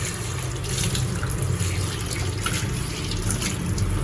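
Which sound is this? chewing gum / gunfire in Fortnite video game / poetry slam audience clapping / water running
water running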